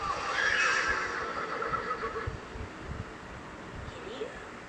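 A horse neighs once near the start, a loud whinny that fades into rustling and faint background noise.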